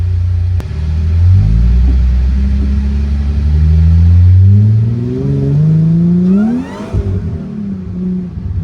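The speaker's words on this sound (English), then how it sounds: "I just want to hear the supercharger engage." A supercharged Mercedes SLK320 with the M112K engine accelerates hard, its note rising in a long climbing sweep before a quick lift-off and drop back, loud and close with no talk.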